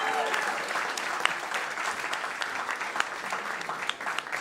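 An audience applauds the speakers at the end of a live literary evening, a steady wash of many hands clapping throughout with scattered cheers and voices mixed in.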